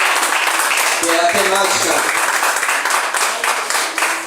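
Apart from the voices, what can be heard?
congregation applause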